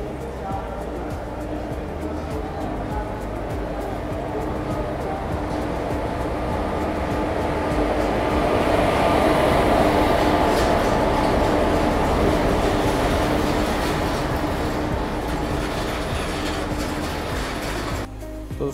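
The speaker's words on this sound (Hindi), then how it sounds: "तो यहाँ पे आ चुकी है अपनी सिक्किम महानंदा एक्सप्रेस" The Sikkim Mahananda Express pulls into a station platform with a continuous heavy rumble of wheels and rail noise that swells through the middle and eases toward the end, with a voice talking over it.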